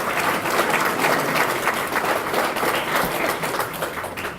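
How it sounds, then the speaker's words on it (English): Sustained applause from a banquet audience at an annual memorial banquet, a dense wash of many hands clapping at once, loud and steady throughout with no voices over it. "Give Lauren a round of applause, please."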